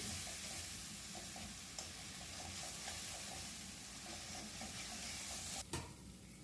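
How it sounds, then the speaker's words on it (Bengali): Spice paste for a jackfruit and prawn curry sautéing in a pan after a splash of water, a soft continuous sizzle broken by light scraping stirs, with a sharper clatter near the end. "মশলাটা ভালো করে কষিয়ে নিচ্ছি"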